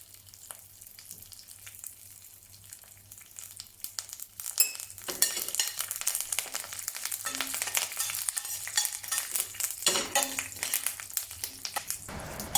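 Curry leaves hit hot oil in a pan for a Malaysian lamb curry, a quiet start giving way to a loud, steady sizzle with scraping stirs and occasional clinks of utensil on metal.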